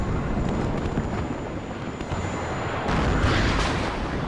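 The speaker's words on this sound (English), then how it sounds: "So you see explosions absolutely everywhere." Artillery fire from 120 millimeter guns in the video game Warno, a dense continuous roar of distant explosions and rumble that intensifies toward the end, with no voices.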